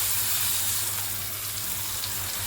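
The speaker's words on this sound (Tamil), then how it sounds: "இப்போ தக்காளி ஊற்றிக்கலாம்," Chopped tomatoes go into a hot frying pan with sautéed green chilli and ginger-garlic paste for an egg-tomato dish. A loud, steady, close sizzle and hiss fills the whole stretch, with no talking.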